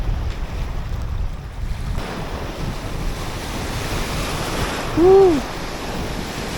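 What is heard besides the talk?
strong ocean waves at shore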